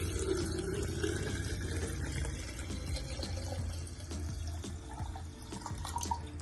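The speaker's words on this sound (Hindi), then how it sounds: "और अब ये पूरा जार भर दिया जाए पानी से।" Tap water running steadily into a jar being filled for kanji, a steady close pouring and splashing that continues throughout with a low hum beneath.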